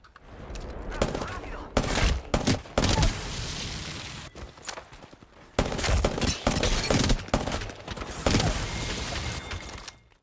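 A gun fired from the hip in Apex Legends, with loud rapid bursts of automatic gunfire in several long volleys, separated by brief pauses and mechanical clicks.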